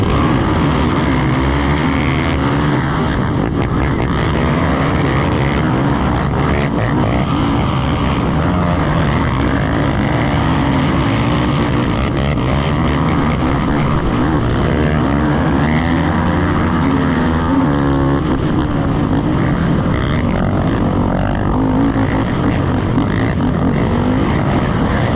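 Pro ATV racing quads from round four of the 2024 MWXC series roar together as a loud, sustained engine drone that rises and falls with throttle, with a steady wash of motors filling the whole stretch.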